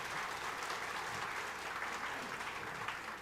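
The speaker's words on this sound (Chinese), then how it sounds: "给他们掌声鼓励一下" A church congregation applauds its youth on a Father's Day youth service Sunday, with steady, dense clapping from a large crowd filling the room evenly throughout.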